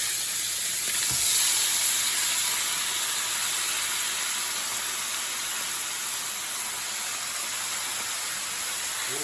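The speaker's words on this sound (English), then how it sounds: "I'm going to put our shrimp in here." Shrimp frying in a pan for a spicy marinara, a continuous loud hissing sizzle held steady throughout, heard close with no voices.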